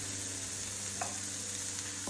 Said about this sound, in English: Our Brussels sprouts, which are still sizzling,